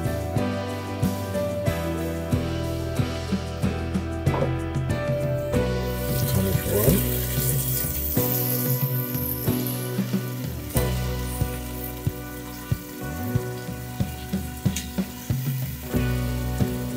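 Chopped celery sizzles in a hot pot while fasolada bean soup is being made, a continuous frying crackle with stirring clatter and occasional sharp knocks of a utensil against the pot.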